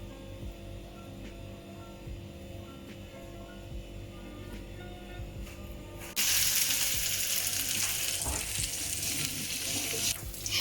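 A chicken burger patty frying in a pan on low heat: a steady, soft sizzle that suddenly turns much louder and more hissing partway through, then continues crackling.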